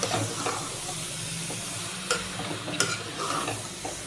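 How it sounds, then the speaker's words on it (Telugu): Deer meat curry with homemade garam masala frying in a pan, a steady close sizzle with occasional stirring scrapes and clatters, no voices. "ఇదంతా కూడా పీసులు పట్టే విధంగా ఒక 10 minutes ఫ్రై చేసుకుందాం"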